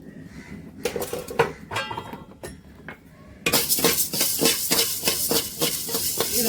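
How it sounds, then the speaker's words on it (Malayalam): Metal utensil scrapes and clinks against a pan, followed by a loud, steady sizzle with repeated stirring strokes as ginger dry-roasts. "ഇതുകൂടെ ഇതിലിട്ട് വറുത്തെടുക്കാം"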